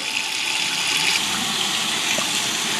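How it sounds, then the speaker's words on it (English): Water rushing steadily out of a water heater drain line during a drain valve replacement, a continuous loud hissing splash with no breaks, close and unaccompanied by talk. "Got a good flow of water."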